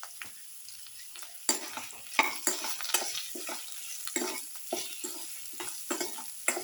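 Okra stew with tomato and garlic sauce frying in a pan as salt is stirred in, a soft sizzle under quick, repeated scraping and stirring strokes.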